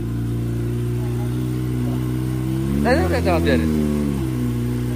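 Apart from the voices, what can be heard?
motorcycle engine started, DX full-system exhaust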